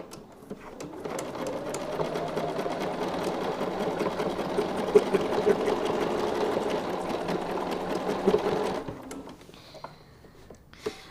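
A sewing machine stitches a quilt heart along a template from the valley to the tip, a close, continuous rapid needle rattle lasting about eight seconds before winding down into quiet handling noise.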